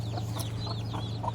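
Native chicks kept on a rooftop garden give soft, repeated clucks and peeps over a steady low hum, with no talking.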